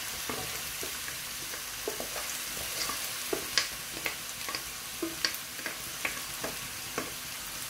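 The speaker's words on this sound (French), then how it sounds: "Maintenant, on met directement dans l'huile d'olive" Mallow (khobiza) fries in olive oil in a pan with a soft, steady sizzle. Scattered crackles and pops run throughout, faint and close, with no voices.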